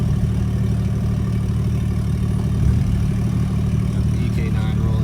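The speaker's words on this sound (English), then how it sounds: "Got the EK9 rolling up." A Honda Civic EK9 Type R rolls up at a Friday night car meet in a parking lot, its engine a steady, close, low idling rumble with slight rises in pitch.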